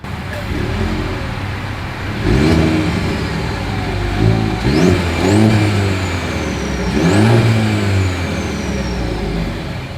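A 2024 Mercedes-Benz GLC SUV exhaust revs up and down several times, a deep throaty roar rising in bursts over a steady idle, close by.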